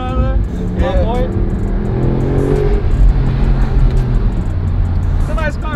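Audi R8 sports car engine running with a steady low rumble and rising revs throughout, loud and close, while people talk and exclaim over it.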